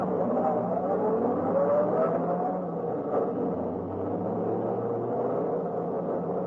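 A car speeds along a foggy road at night as a radio drama sound effect, a steady close engine roar with a rising whine, continuous and loud without speech.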